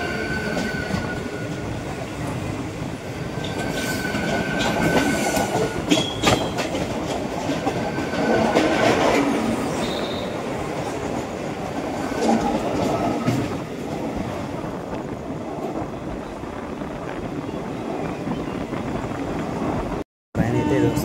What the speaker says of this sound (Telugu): ఇదైతే ఎంఎంటీఎస్ ట్రైన్ అనమాట.